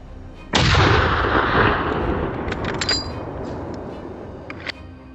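A single loud hunting rifle shot cracks out in a snowy forest during a wild boar hunt, followed by a long rolling echo and a few faint clicks.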